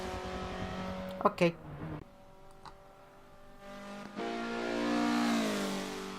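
A Mazda race car's engine revs on the track at Road Atlanta, holding a steady mid-pitched drone that climbs and swells loudly toward the end, with short bursts of speech early on.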